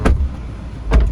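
A car door on a modified Maruti Swift LXI upgraded to ZXI+, heard as two close, solid thuds of a door shutting about a second apart, with no voices.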